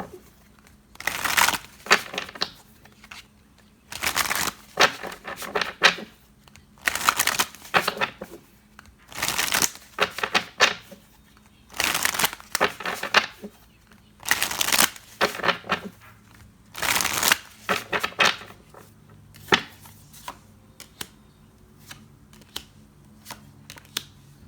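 Oracle cards being shuffled by hand for a tarot reading, a series of repeated riffling bursts, each a second or two long, with short pauses between, close and moderately loud, with no talking.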